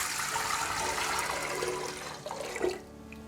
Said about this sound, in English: we're going to put 2 quarts of water in with the spices.